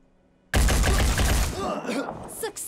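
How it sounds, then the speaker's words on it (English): An Ares AR-1 assault rifle in a Phoenix Point battle lets off a six-round burst, a loud close rattle of rapid shots that cuts off sharply and leaves a few brief game effect sounds behind. "the Ares AR-1 assault rifle, has the capacity to do 30 damage per shot and fires 6 bullets per burst"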